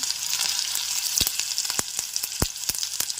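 Fenugreek seeds and cumin frying in hot oil with garlic, a steady bright sizzle broken by several sharp pops and crackles as the seeds hit the oil, close and fairly loud, no voices.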